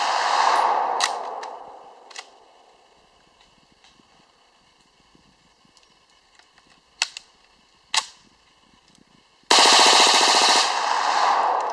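A POF rifle fires sharp semi-automatic shots outdoors, several single cracks spaced a second to several seconds apart, ending in a loud sustained burst of noise.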